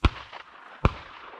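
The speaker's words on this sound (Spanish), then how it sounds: "siguen pegando tiros." Two sharp distant shotgun shots from thrush hunters during the opening of the thrush season in Andalusia, spaced almost a second apart, each with a rolling echo tail in open countryside.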